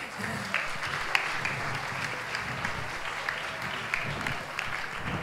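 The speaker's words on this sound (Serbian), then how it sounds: "Aplauz za Jaserštajna." Applause from a panel audience as a young YouTube performer is welcomed on stage at a Belgrade teen event, steady clapping throughout with a few sharper claps standing out.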